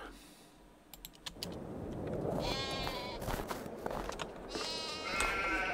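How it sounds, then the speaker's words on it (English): Sheep bleat in Farming Simulator, several wavering calls layered over a busy farmyard backdrop, with keyboard-like clicking audible at the start. "So let's check on our sheep."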